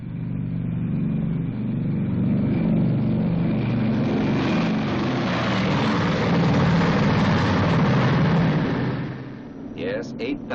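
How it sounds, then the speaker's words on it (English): Four Wright 3350 radial engines of a B-29 Superfortress roar together in a loud, dense, sustained drone that swells steadily, then drops off near the end into scattered knocks and rattles. "here's the B-29, your super fortress. And those are its 4 Wright 3350 engines."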